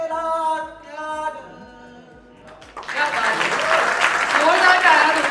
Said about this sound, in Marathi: जोरदार टाळ्या दोघांसाठीही